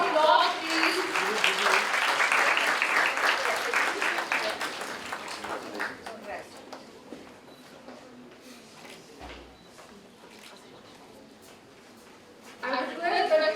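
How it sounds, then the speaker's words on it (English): Audience clapping at a national moot court competition valedictory ceremony, a dense burst of applause that tapers off over several seconds into quiet room tone, with a brief swell returning at the end. "A big round of applause, please."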